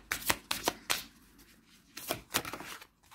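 Oracle cards from the Oracle des êtres deck are shuffled in a few quick, crisp riffling bursts, then pause before a last pair of flicks as a card is drawn, close and fairly soft.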